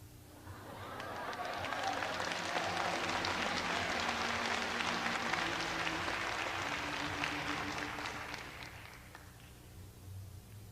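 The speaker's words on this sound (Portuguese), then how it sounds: "Obrigado, um aplauso." Sustained applause fills a church ministry school class, a dense wash of clapping that swells, holds steady for several seconds, then tapers off near the end.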